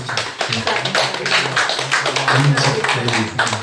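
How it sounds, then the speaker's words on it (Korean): A church congregation at a Sunday worship service in Seoul claps together to welcome a newlywed couple, producing continuous, fairly loud clapping with some voices mixed in. "우리 같이 환영의 박수 한번 하시죠"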